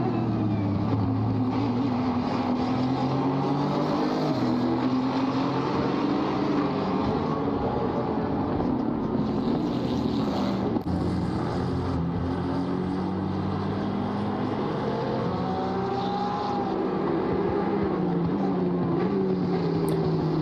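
A Lamborghini race car powering down the main straight at Valencia in a multiclass race makes a loud, continuous engine drone whose pitch swells and dips as it accelerates, with no clear speech over it.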